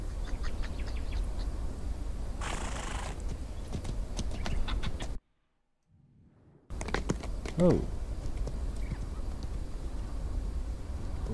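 A horse's hooves clip-clop in a steady rhythm through the western survival game Outlaws of the Old West. The sound cuts out briefly midway, then returns under ambient noise, with a short voice exclamation.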